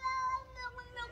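A cat meows up close in a drawn-out, wavering call that breaks into a couple of shorter rising meows, loud and clear with no speech over it.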